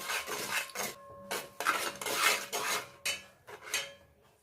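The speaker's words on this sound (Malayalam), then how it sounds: "ഈ പൊടി നന്നായിട്ട് മിക്സ് ചെയ്തെടുക്കണം." A spoon scrapes and stirs a dry mix of ground cardamom, dry ginger and cumin in a bowl for jaggery-coated banana chips, giving close, uneven bursts of gritty rubbing and clinking with short gaps between strokes.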